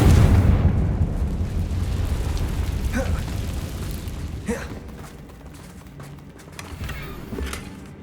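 A Confringo spell explodes in the Hogwarts Legacy video game with a loud, rumbling boom that fades over several seconds, followed by smaller pops and thuds.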